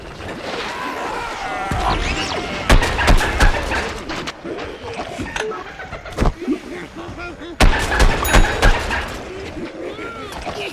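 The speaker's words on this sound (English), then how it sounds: "scientist just threw his sticky explodey ball. It'll stick to the world, it'll also stick to enemies before exploding." A sticky explosive ball detonates in the shooter game Plants vs Zombies Garden Warfare, one of several loud booms and bangs that punch through busy battle noise, with talk over the action.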